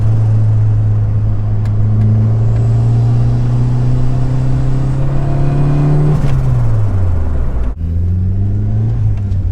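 Ford Fiesta RS Turbo MK3 engine pulling hard under acceleration, a steady rising drone that swells as the turbo comes on boost, then drops sharply on a gear change before climbing again, loud and close throughout.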